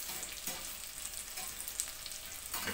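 Ingredients sizzle steadily in a hot pan as they brown, with soft scrapes and stirs breaking through the constant crackle at close range.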